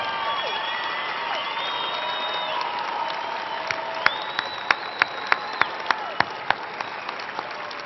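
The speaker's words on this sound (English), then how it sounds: "graduates, please join me in applauding these people that have made it possible for you to get here today" Large commencement crowd applauding graduates' families, a continuous roar of clapping with whoops and cheers, punctuated by a run of sharp, loud individual claps close by.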